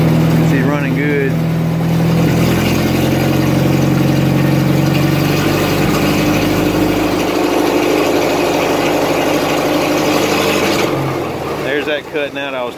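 An International 424 tractor engine runs loud and steady at idle for the whole stretch, with a rough, throbbing low drone; voices talk over it near the start and end.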